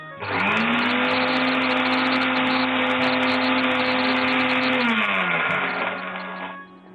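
A kitchen mixer grinder whirs at a loud, steady high pitch for several seconds while grinding ingredients for a Tamil recipe, then slows down and winds off.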